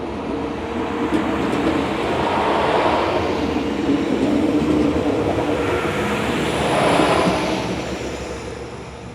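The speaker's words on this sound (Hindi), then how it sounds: "ये वही छोटी वाली ट्रेन जो आपने कई बार देखा होगा, मेरे घर के पास से निकलती है" A small local train passes close by a house near a level crossing in light rain, a loud rolling rumble and rail clatter that swells twice as carriages go by, with no talking.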